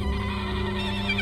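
Horses neigh and whinny, a steady, fairly loud call filling the short stretch, evoking chariot teams driven across the Siberian steppe.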